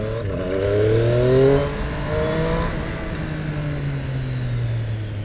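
A 2019 Triumph Street Triple RS naked motorcycle rides through tight streets, its engine swelling to a louder rev and then easing into a falling, steady drone nearby.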